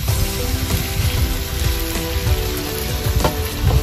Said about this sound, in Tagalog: Igigisa muna natin sa saglit